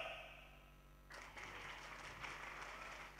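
Applause from an audience at an Islamic religious gathering during a sermon, a broad wash of clapping that starts abruptly and carries on steadily, moderately faint and somewhat distant.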